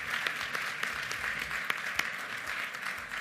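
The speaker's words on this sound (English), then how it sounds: "Please give us a round of applause for our supporters and sponsors." Audience applause for supporters and sponsors at an Access Academies school gala, a steady, moderately loud wash of many hands clapping with a few sharper individual claps standing out, no voices over it.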